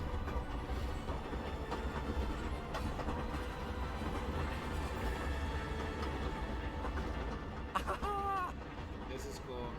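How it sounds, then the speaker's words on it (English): The Hogwarts Express train running in the game Hogwarts Legacy, a steady rumbling roll with faint clickety-clack under a constant wash, and a brief squeal near the end. "There's the Hogwarts Express. Must be returning from an unscheduled run."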